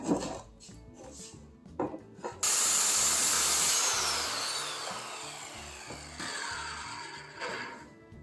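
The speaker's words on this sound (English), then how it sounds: "now that I have those marked out, it's time to cut and drill again" Clattering workshop handling while repairing a potato cannon, then a loud power tool whirs steadily as it cuts, winding down slowly before more knocks and a second burst.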